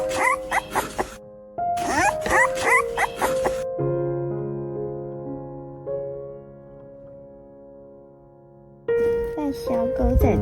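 A tiny stray puppy whimpers in thin, high yips at the start and again at the end, with sustained tonal music filling the stretch between.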